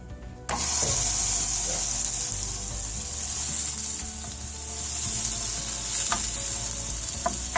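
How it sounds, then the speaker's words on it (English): A homemade hamburger patty mixed with green onions fries in a pan, giving a steady, loud, close sizzle that starts abruptly and keeps going with a few soft pops and no talking. "As we're cooking the patty, we're gonna cook it on."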